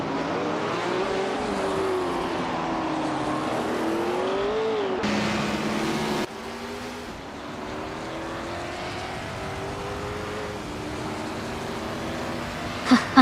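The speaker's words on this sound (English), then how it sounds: "Sounds like some intense racing happening." Race car engines whine and rise in pitch, shifting abruptly as the scene cuts, with a short sharp burst near the end.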